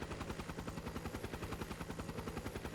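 Pale Apache flying war machine in Trails of Cold Steel 3 passes overhead with a steady, rapid rotor chop, a dense rhythmic thudding whir that pulses evenly throughout without any voices.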